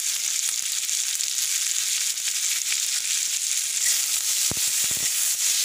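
Egg and soya chunks fry lightly in hot oil, giving a loud, dense, continuous sizzle throughout, with a brief burst of clattering stirring near the end.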